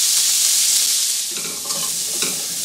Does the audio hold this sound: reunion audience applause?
no